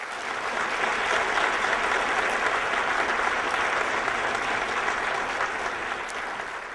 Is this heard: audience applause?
yes